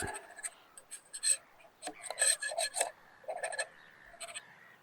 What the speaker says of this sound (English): I'm just going to sort of scrape that out a little bit